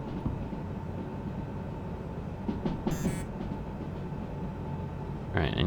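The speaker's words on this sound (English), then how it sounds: "But yeah, big heavy train." A heavy freight train rolls along in the Derail Valley simulator, giving a steady low rumble with a brief high hiss near the middle and another near the end.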